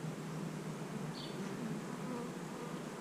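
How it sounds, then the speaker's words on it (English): Honey bees buzz steadily at a beehive, a continuous, close hum of many wings that lasts throughout. "Oh, there's a bee emerging."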